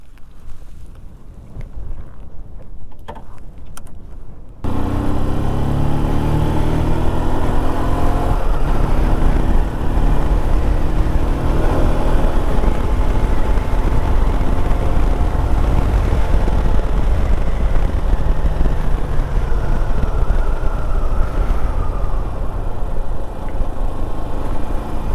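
A quiet, hushed stretch, then a Shineray SHI175 motorcycle engine roars to life and runs loud and steady, pitch climbing with acceleration amid wind rush.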